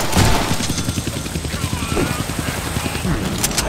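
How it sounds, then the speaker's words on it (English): Helicopter and gunfire in the Deadpool video game at a castle: a rapid, rhythmic thumping of rotor blades runs throughout, mixed with bursts of gunshots, loud and close, with a voice speaking over it. "I can't kill that chopper with my guns"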